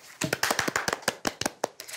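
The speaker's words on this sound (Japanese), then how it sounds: "正解者に拍手" Brief, light applause from a small studio audience on a Japanese quiz show rewards the correct answerers. About a dozen separate claps come in a loose, uneven patter at low volume.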